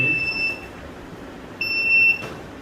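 The alarm buzzer on a smart helmet for coal miners gives two high, shrill electronic beeps separated by a short gap, close and clear over faint background noise.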